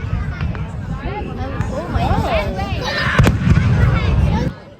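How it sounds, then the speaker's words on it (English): Fireworks bursting outdoors during a Canada Day celebration, a steady run of crackling pops and bangs that swell louder toward the end, mixed with excited voices and crowd chatter throughout. "What do you think the chances are the next one's a firework too?"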